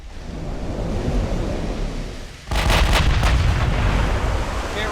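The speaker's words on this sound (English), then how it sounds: "Ammo detonation." A battle cruiser's ammunition detonating in the naval warfare game Ultimate Admiral Dreadnoughts: a loud, sudden rumbling blast cuts in halfway through over steady noisy background, with a few crackling bursts, then a sustained roar.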